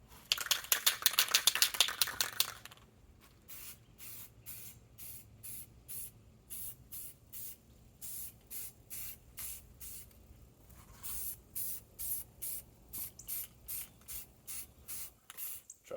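A spray can coats a deer skull euro mount, antlers included: one long hissing burst first, then a steady run of short, evenly spaced spray pulses, close and clear with no talk.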